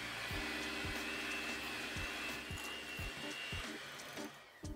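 Electric mixer beating milk, orange juice and vanilla into cranberry orange bread batter, a steady whirring motor hum with regular rhythmic knocks of the beaters against the bowl, close and continuous.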